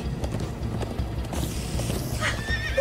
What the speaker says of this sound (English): Come on, horses! Whatever you do, don't look back.